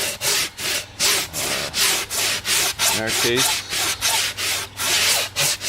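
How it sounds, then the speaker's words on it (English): Rhythmic scraping strokes of a sanding block with drywall sandpaper on a cut styrofoam edge, about a dozen back-and-forth passes, close up, with a short spoken phrase midway. "we're going to take a sanding block and we're going to sand the edge that we just cut."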